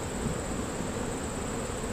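Honeybees buzzing around an open hive during a late-July inspection, a dense continuous hum of many wings close by, steady and unbroken, with a thin high tone running above it and no talk.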